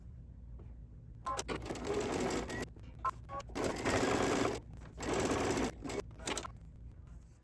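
A sewing machine stitches a duffel bag seam 1/8 inch from the edge in several bursts of rapid mechanical whirring, with short pauses between runs and a faint hum between them.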